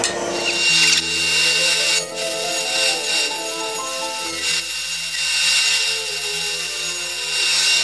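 Steady rubbing and scraping on apple wood as a tool smooths the bottom of a lidded box, continuous and close, with a sustained tonal hum running underneath throughout.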